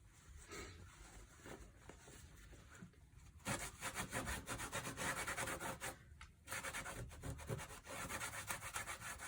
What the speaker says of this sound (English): wiping quite hard so that that paint's really down only into those crevices